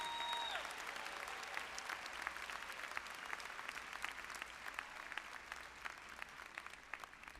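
Steady, sustained applause fills a university commencement hall for a doctoral graduate, with a large audience clapping continuously at an even, moderately distant level.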